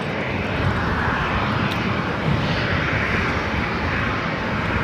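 A Delta airliner landing at LAX airport roars continuously and loudly, a broad steady jet rumble and whine filling the air from start to finish, with no voices.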